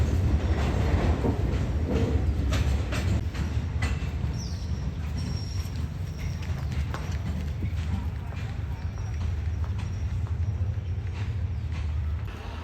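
Freight train 721 from Bang Sue to Thung Song pulls into platform 1 at Surat Thani station, a steady low rumble with rhythmic wheel clatter and metallic clanks, with a faint squeal, continuous and fairly close throughout.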